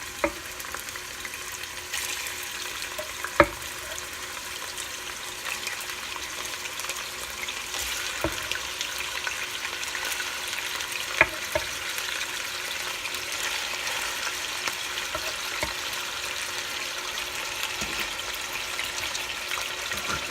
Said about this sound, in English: I'm actually going to let it fry up a little bit so it can get crispy